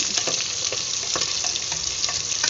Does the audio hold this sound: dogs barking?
no